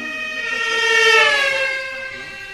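An ambulance siren sound effect in a stage play rises and falls in a single wailing sweep, loud and close, with no talk over it.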